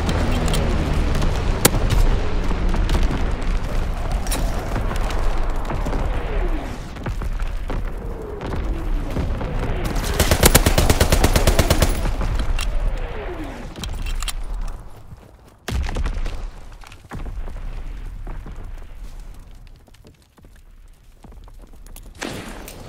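Artillery barrage in Call of Duty: WWII team deathmatch on an Ardennes forest map, with repeated booming blasts, a dense loud burst near the middle, then scattered impacts and game noise fading toward the end.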